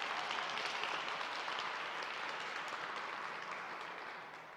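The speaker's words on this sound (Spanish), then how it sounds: "Denle fuerte aplauso al Señor si usted lo cree." A church congregation applauds during a Spanish-language sermon: a thick wash of clapping from many people, fairly soft and distant-sounding, steady at first and then gradually fading toward the end.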